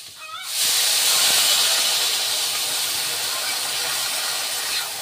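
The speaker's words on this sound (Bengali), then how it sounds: "তরকারিটা কিন্তু ফুটে উঠেছে" A pot of vegetable curry with banana and potato boils hard, giving a loud, steady hiss and bubbling that rises suddenly after a brief quieter opening and then holds unbroken.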